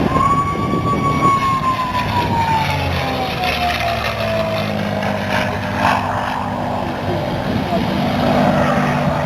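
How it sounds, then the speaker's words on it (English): A P-51 Mustang fighter flies past at the Duxford Flying Legends air display, its engine a steady, loud drone with a falling pitch as it passes, over a broad wash of outdoor noise. "Listen to the P-51 now."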